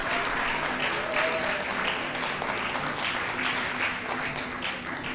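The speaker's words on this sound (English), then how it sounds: "Would you give them a round of applause?" An audience at the closing session of a multi-day association conference gives first-time attendees a round of applause, dense, even clapping from many hands sustained throughout at moderate volume.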